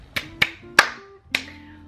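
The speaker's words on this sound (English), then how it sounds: "I feel like I shouldn't be clapping for myself" A lone person claps a few times in a quiet room, four sharp, separate claps with uneven gaps, close to the microphone, with no talking.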